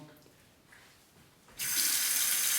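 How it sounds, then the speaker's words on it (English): After a quiet moment, a tap is turned on and hot water gushes steadily and loudly into a sink. "Tempered under the hot water."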